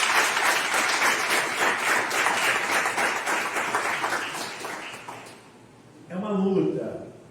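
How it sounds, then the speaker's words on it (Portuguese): A church congregation applauds in a dense, steady burst of many hands that fades after about five seconds, followed by someone speaking. "Você pode aplaudir o Senhor?"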